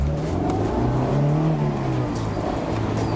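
Honda S2000 with 54,000 miles, its engine revving up and down in loud, close bursts with rising and falling pitch, no voices.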